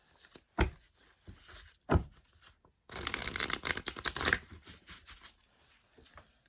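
Tarot cards being shuffled by hand, a few sharp riffling bursts followed by a longer, dense flurry of papery shuffling, close and fairly quiet with pauses between.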